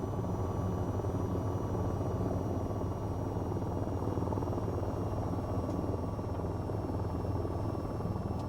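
An AH-94 attack helicopter in VTOL VR winds down after landing, a steady loud rotor and turbine drone with a constant whine holding throughout.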